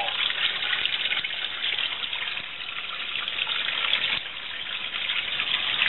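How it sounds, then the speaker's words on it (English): Seawater pours steadily into a boat's bilge through the stern, a constant close rushing splash with no let-up and no voices. "Down to just a little waterfall."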